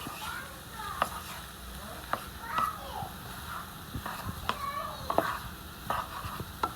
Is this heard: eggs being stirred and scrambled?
yes